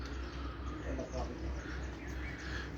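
Champion pigeons belonging to two local pigeon keepers coo and chirp faintly on a rooftop in Punjab, under steady background noise with people talking.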